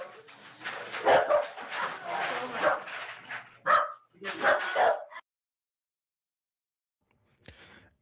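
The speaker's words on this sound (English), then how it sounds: "I told you, look at these dogs." Several dogs kept in cages bark and yip in quick, overlapping bursts at close range, then fall silent before one last brief bark.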